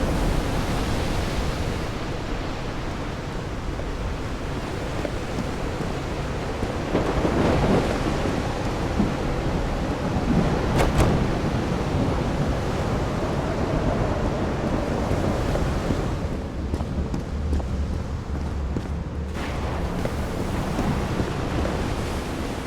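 A thunderstorm rumbles through the video game Call of the Sea, broad steady rain and surf-like wash filling the space with a sharp thunder crack near the middle and lower rolling swells after, no voices.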